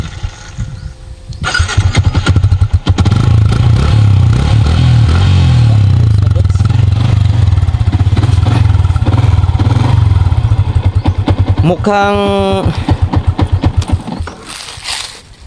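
A stock Yamaha Sniper 150 motorcycle engine starts up close by and runs with a loud, steady rumble for several seconds, then clatters and fades as it winds down.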